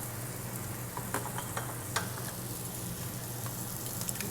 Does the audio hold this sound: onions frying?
yes